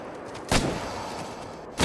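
Rifle shots in the hunting video game theHunter: Call of the Wild: two sharp, loud reports about a second and a quarter apart, each with a short echoing tail over quiet outdoor ambience.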